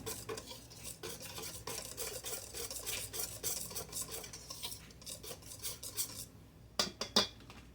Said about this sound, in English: I'm just going to beat this. Get that egg incorporated.